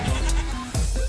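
Goat bleating in a Goat Simulator card game, two loud drawn-out bleats close to the mic, the second starting after a brief pause, with no talk over them.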